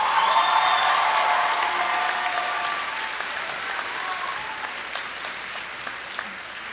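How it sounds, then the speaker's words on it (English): A crowd at a high school commencement claps and cheers loudly at first, the applause gradually tapering to a steadier, softer patter. "give her a round of applause"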